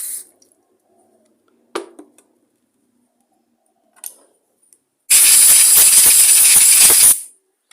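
After a few small clicks and knocks, a loud burst of rushing water rinses out a Quantum lawnmower carburettor bowl for about two seconds, then cuts off.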